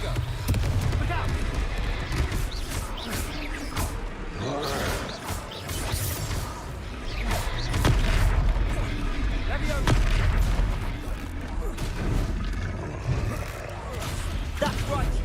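Confringo blasting spells exploding in Hogwarts Legacy combat: repeated booming blasts and crashes among busy fight noise, loud and near, with game voices talking throughout.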